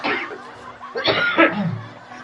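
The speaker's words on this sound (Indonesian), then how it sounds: "Jadi langsung batuk ya" A couple of harsh coughs close by, the second burst louder and more drawn out, trailing into a throaty rasp.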